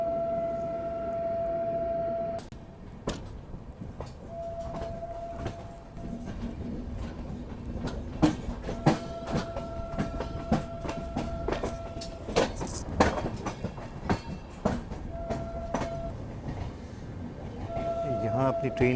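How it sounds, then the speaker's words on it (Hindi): The Suhaildev Express rolls along the rails in heavy fog, wheels clicking and clattering in an irregular rhythm, with long steady horn tones sounding several times and a voice talking in the background. "यहाँ अपनी ट्रेन पहुँच रही है ज़ाफ़राबाद जंक्शन रेलवे स्टेशन"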